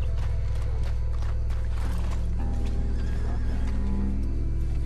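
A horse in Red Dead Redemption 2 whinnies loudly amid clip-clopping hooves and mechanical clatter, over a constant low rumble.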